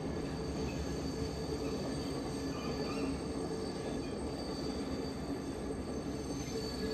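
A train rolls across the Nine Arch Bridge in Ella, its wheels squealing with thin, sustained high tones over a continuous rumbling roar, steady and moderately close throughout.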